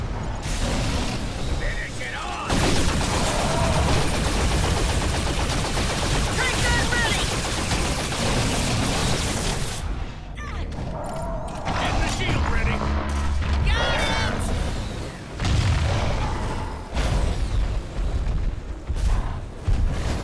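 An orbital barrage in a video game unleashes dense, continuous explosions mixed with rapid gunfire, roaring almost without pause for about ten seconds before breaking into choppier bursts and booms.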